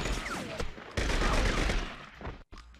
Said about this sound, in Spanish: Básicamente es el juego de CJ, pero de disparos